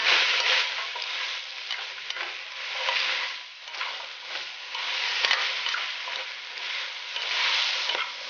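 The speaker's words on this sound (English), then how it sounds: "I'm going to saute them with the rest of the ingredients that's in there already." Green peppers and celery sautéing with other gumbo ingredients in a pot, a steady crackling sizzle with occasional stirring scrapes, fairly close and continuous with no talking.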